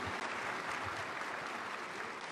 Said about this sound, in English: Let's give them a round of applause for sticking to the 3 minutes